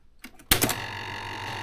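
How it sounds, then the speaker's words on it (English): An Olympia Eurostar electric typewriter with plastic gears behind the carriage gives a few soft ticks, then a sharp mechanical clack that settles into a steady whirring grind, close and alone. "the plastic gears have a tendency to sound like this"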